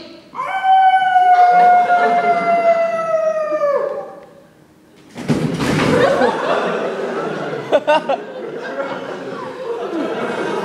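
A person at a hypnotist show at a university orientation imitates a wolf howl, a long, loud, wavering howl that slides downward. It is followed by a short pause and then laughter and chatter from the audience.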